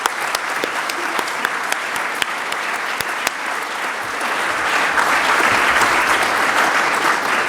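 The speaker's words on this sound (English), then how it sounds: "Let's give them the round of applause they so truly deserve." Conference audience applauding at the opening of a financial security event, steady sustained clapping from a large crowd that swells a little louder toward the end, with no voices over it.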